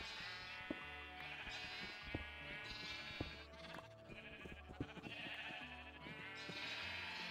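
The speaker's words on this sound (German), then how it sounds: "Schubst das Schaf nicht da runter." Minecraft sheep bleating repeatedly over steady game music, with short wavering cries scattered through the stretch alongside clicks and blocky in-game effects.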